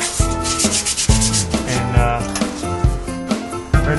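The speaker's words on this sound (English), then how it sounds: "there's a lot of just sanding to do to get the finish off, get the rough spots smooth, get the rust out" A sander grinds rust and old paint off a Ford F100 truck during restoration in a loud, steady scraping with rhythmic strokes, while music plays and a voice briefly speaks.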